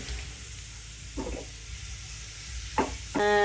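Turmeric powder sizzling in hot oil for a Kerala-style mango pickle, a steady soft hiss with a few brief stirring scrapes and a short tonal clatter near the end, heard alone without speech.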